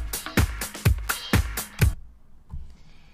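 A punchy house drum loop in Logic Pro 9 plays alone: steady kick hits with crisp hi-hat and snare accents in a four-on-the-floor groove, then stops abruptly.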